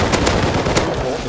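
Gunfire in the video game Rust crackles in a rapid burst of sharp shots, a few louder cracks standing out against dense background noise in just over a second.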